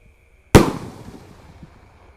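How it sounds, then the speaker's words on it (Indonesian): A Basoka single-shot roman candle firework goes off at night, one sharp loud bang after a short silence, followed by a crackling, fading tail over about a second and a half. "Sudah menyala ini Basoka single rush."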